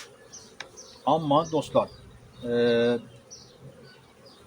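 Drone honeybees raised in a breeding hive buzz with a steady hum that swells into one close, sustained drone, while someone speaks briefly over the hive sound.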